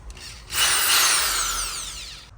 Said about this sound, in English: Alright, so I successfully drilled a hole.